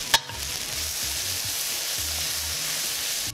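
Tomato paste and vegetables sizzling in a stew pot for beef and barley stew: a soft, steady frying hiss after a brief clack at the start, with faint scraping stirs underneath.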